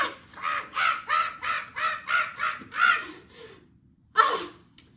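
A crow caws in a loud series of about eight harsh calls in quick succession, then one more caw after a short pause, close by and alone without talk.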